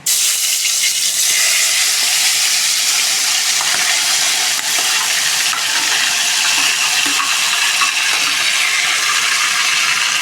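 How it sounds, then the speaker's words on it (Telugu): Tomatoes hitting hot oil in a frying pan while making dried red chili chutney give a loud, steady, hissing sizzle that fills the whole stretch without a break, with no talking. "ఇప్పుడు టమాటాలు వేసుకోవాలండి"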